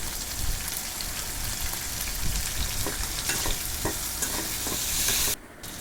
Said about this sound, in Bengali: চিংড়ি মাছ একটু ভেজে নেড়ে চেড়ে তাতে হলুদ দিয়ে দিব।